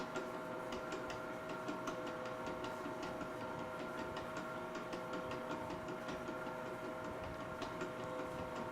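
A stand mixer with its paddle attachment and safety gate closed runs steadily, a constant motor hum with rapid faint clicking and rattling, kneading a coarse crumb dough.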